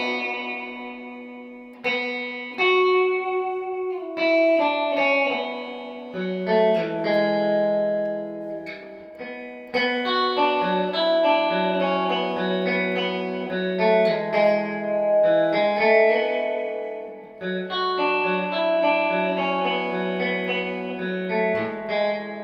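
Electric guitar plays a song's intro and chordy verse part through effects, with distortion, chorus, reverb and echo, as sustained ringing notes and chords that run steadily without any talking.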